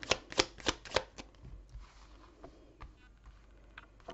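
Oracle cards being shuffled for a reading, a quick run of crisp riffling flutters at the start followed by softer scattered taps and slides of cards being handled, close and quiet with no talking.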